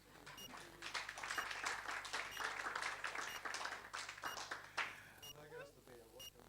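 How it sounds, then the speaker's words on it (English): Audience applause for panelists at the close of a conference session on omics for food, a steady wash of clapping of moderate loudness that lasts several seconds before fading. "our panelists deserves beer or a round of applause"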